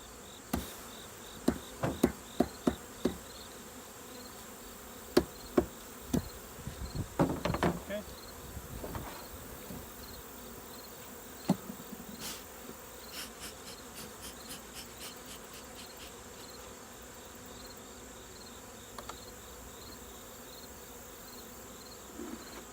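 Honey bees buzz steadily around a hive during fall mite treatment, a continuous close hum broken by scattered sharp taps and knocks against the hive, with no talking.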